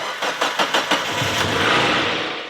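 A car engine, fitted with new spark plugs and wires, cranks with several quick rhythmic churns, catches, and settles into a steady, fairly loud idle.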